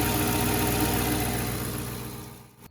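A 2011 Dodge Durango R/T with its 5.7-litre Hemi V8 idles steadily and smoothly up close, a continuous rumble that fades toward the end with no talking.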